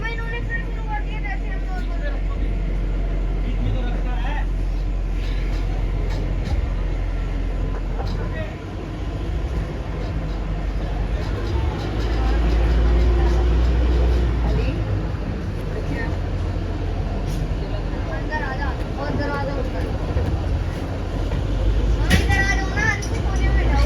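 The Shimla-Kalka narrow-gauge toy train departs Bharog station with a steady low rumble and rolling clatter, with station chatter mixed in throughout.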